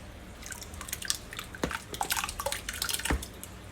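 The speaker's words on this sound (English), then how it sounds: "Now let's add some paper pulp." Paper pulp dropped and stirred into a big tub of plain water, soft wet splashes and dripping sounds scattered throughout, fairly quiet and close.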